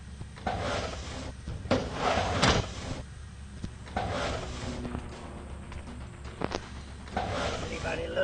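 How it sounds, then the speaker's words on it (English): A toolbox is opened in the Ice Scream 2 video game, giving several wooden clunks and sliding, drawer-like knocks spread across the scene, with a voice talking intermittently over them. "Open toolbox."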